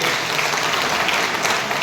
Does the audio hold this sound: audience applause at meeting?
yes